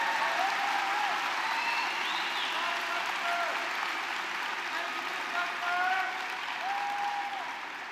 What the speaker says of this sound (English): Please join me in giving a warm round of applause for the many staff who have worked so hard to make this